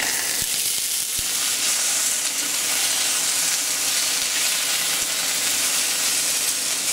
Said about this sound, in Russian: Попробуем дожарить нашу картошку.